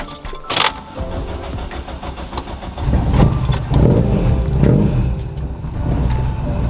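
A Toyota Corolla with a clutch problem is started with its key: a brief jingle of keys, then the engine cranks and catches into a loud, steady idle rumble nearby, with no talk.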